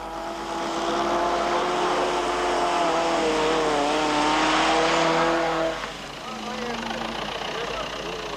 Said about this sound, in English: Others follow, including the Toyota Hilux of Koos Neyman and Piet Du Plessis.